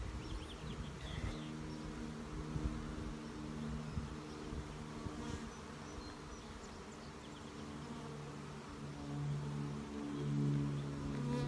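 A honey bee swarm buzzes steadily and close while being shaken into a box, a dense droning hum with a few bumps and a louder swell near the end, with no talk.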